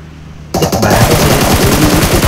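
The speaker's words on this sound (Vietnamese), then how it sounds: "Có tiếng súng gần vậy" Sudden loud automatic gunfire in the video game PUBG Mobile, a sustained rapid stream of shots that bursts in after a short quiet lead-in, close and harsh.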